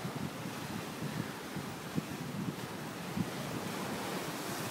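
Ocean waves roll and break near the shore at Shelly Beach, a steady close wash of surf with soft surges and a few sharper splashes, mixed with wind buffeting on the microphone.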